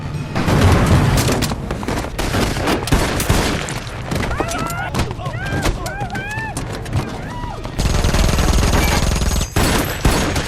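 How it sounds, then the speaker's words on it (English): Rapid bursts of gunfire crack and echo through a street shootout in an action film, loud overlapping shots mixed with music and shouted voices. "triggering a fierce shootout on the street"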